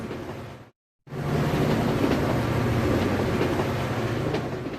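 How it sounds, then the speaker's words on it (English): A train passes with a continuous rumbling roar and rail clatter, briefly cut to silence near the start before the loud steady noise resumes. "Train."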